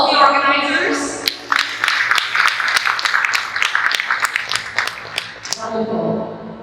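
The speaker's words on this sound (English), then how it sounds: "can I have a big round of applause for all the organizers?" Audience at a personal brand building summit clapping for the organizers, a dense burst of applause over steady crowd noise and voices that swells and then fades away.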